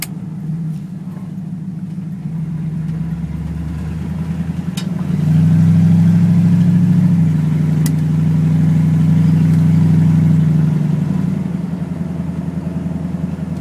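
A car accelerates near full throttle up to about 50 mph, its engine droning low and steady from inside the cabin, swelling louder and higher in the middle before easing back.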